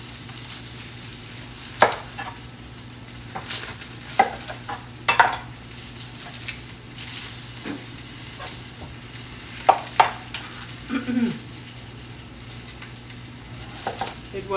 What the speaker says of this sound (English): add onion.